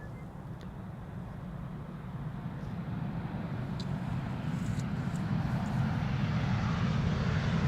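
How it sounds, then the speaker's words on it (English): An easyJet passenger jet arriving at Amsterdam Schiphol Airport roars steadily and grows gradually louder as it approaches, a broad continuous engine rush heard from a distance with no talking. "This is an EasyJet that I'm not seeing on Flight Radar for some reason."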